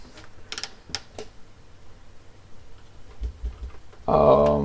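A misaligned computer keyboard is typed on and adjusted, with scattered close clicks and taps, then a voice speaking near the end.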